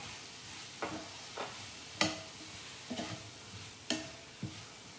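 Vegetables for hakka noodles are cooked with soy sauce in a pan, giving a quiet background sizzle and spaced spatula scrapes and knocks about every half second to second, close and fairly soft.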